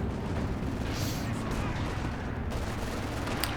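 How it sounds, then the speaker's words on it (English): Artillery fire rumbles in Company of Heroes 2 during a 4v4 battle in Lienne Forest, with a dense, continuous roar of distant shelling and battle noise and no clear individual blasts. "The artillery flares coming through."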